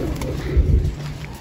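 A pigeon cooing close by, a low soft throaty coo rising over faint background noise.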